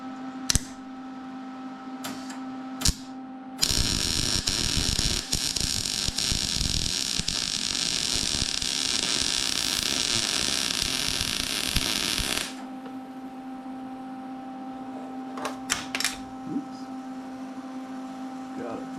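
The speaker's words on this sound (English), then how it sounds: "So let's get that one welded." A welder runs a long, continuous crackling hiss along a seam on a Yamaha G1 golf cart side bag, loud and close for about nine seconds, with a few short clicks and taps before and after.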